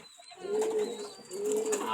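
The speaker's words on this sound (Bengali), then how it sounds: "দোনো দুইটা সাকি কবুতর দেখেন, খুবই একটা কোয়ালিটিফুল কবুতর ভাই" Two Shaki breed pigeons cooing close by, with two drawn-out low coos rising and falling about a second apart over faint background chirps.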